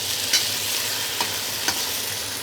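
Chicken being stir fried in a wok, a steady broadband sizzle with a few faint scraping clicks of a utensil against the pan, continuous and close, with no talking.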